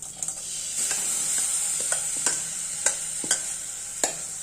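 Steady sizzling of green gram in a hot pan with a spoon scraping and stirring, several distinct clinks and scrapes at irregular intervals over the constant hiss.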